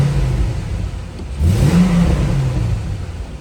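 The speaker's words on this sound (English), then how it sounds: "give it a couple revs." A 2000 Chevrolet Corvette convertible with a 5.7L LS1 V8 and automatic transmission idles, then gets a couple of close, loud revs that rise and settle back toward idle.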